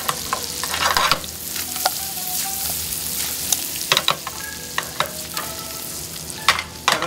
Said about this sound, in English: I'm going to take the bananas and we're just going to saute them around a little bit in the fire.